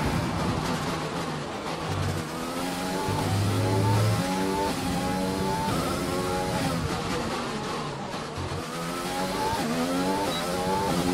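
An F1 2020 race car in the Azerbaijan Grand Prix qualifying session roars through its gears, its engine pitch climbing and dropping repeatedly in a loud, close whine.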